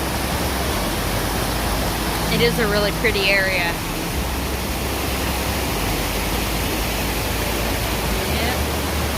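Rushing stream water along the Appalachian Trail in Connecticut pours as a constant broadband hiss, with birdsong chirping briefly and a person speaking over it near the start.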